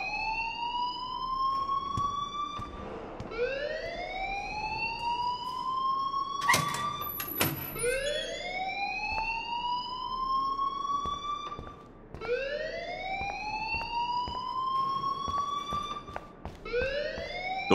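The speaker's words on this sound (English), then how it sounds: "please turn off that alarm since that's your job" School alarm in the video game Life Is Strange, a loud wailing siren that rises and falls in repeated sweeps, with brief clanks partway through.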